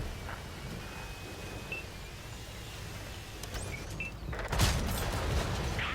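Cannon fire in a tank video game, with the secondary gun of a Type 5 Heavy Japanese super-heavy tank booming sharply around the four-and-a-half-second mark over a steady rumbling battle backdrop.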